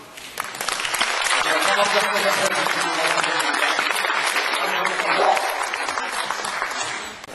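Audience at a library society's annual academic presentation claps steadily for about seven seconds, a dense sustained round of applause filling the hall with no clear voices over it.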